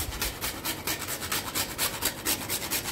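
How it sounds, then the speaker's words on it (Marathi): Nutmeg grated by hand for mango panha, a steady run of quick close rasping strokes with no talk. "जायफळ थोडं किसून टाकून घेते याच्यात."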